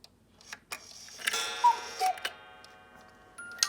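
A cuckoo clock ticks up close in a quiet room after its lever is pulled down to turn it on. Crisp, evenly spaced clicks sound alongside faint chime-like ringing, with no talking.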